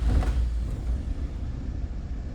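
Idling 1FZ engine of a 1996 Toyota Land Cruiser FZJ75 pickup truck, a steady low rumble that stays close and even for a few seconds with no voices.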